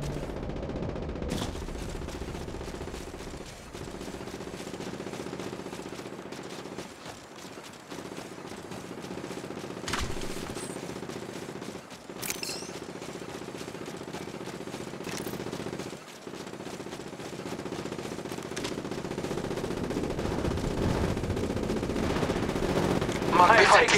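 Gunfire from the mobile game Apex Legends Mobile, sporadic sharp shots and short bursts over a steady droning game backdrop, with faint voice lines now and then.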